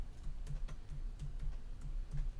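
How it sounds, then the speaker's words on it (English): A run of quick, soft keystrokes on a computer keyboard as a command is typed, irregular clicks close by with no talking. "I'm typing in right now."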